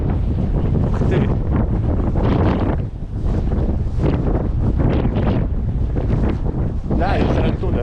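Strong wind in a snow storm on a beach at Scheveningen roars loudly and steadily across the microphone in heavy gusts, with voices talking faintly beneath it.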